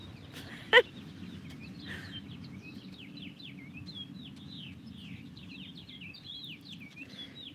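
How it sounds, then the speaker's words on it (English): Small birds chirp repeatedly in a quick, high twittering series, fairly faint over a low background hum, with one brief sharp knock early on. "Hear the birds chirping."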